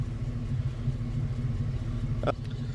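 A pickup truck engine idles in a quiet, even low rumble for a few seconds, with one brief click near the end.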